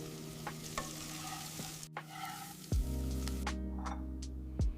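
Egg-coated rolls sizzle in butter in a pan, a steady close frying hiss with a few soft scrapes and taps as they are turned, with a low hum underneath.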